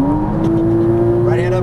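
Porsche Cayman S engine under full throttle on a track, a loud steady drone with the pitch climbing near the end as the revs rise, with a person talking over it.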